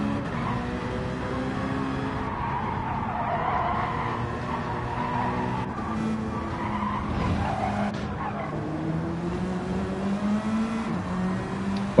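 Race cars in Gran Turismo 7, including a Porsche Cayman and a Group 4 Corvette, roar continuously with engine tones rising and falling and repeated tire squeals, loud and dense throughout.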